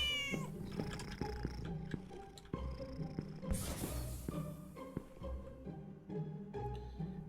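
A hungry cat meows repeatedly in a cat-based FNAF-like video game, drawn-out yowls over a busy layered game music backdrop with a sudden bright noise burst midway.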